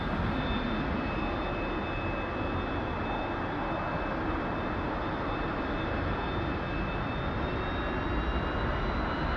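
Aircraft engine in the DCS flight simulator game, a steady droning roar with a faint whining tone held throughout, no talk.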